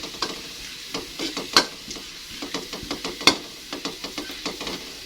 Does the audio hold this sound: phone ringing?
no